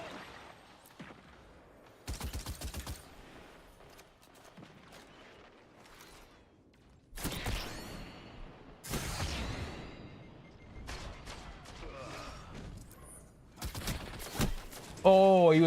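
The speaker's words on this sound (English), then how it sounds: "That's a scout rifle I think he's using there." Scout rifle fire in the Destiny 2 video game comes as several sharp, loud bursts separated by quieter gaps, with a player talking between and over the shots.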